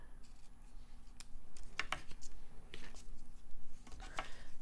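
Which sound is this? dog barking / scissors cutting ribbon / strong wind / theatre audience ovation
scissors cutting ribbon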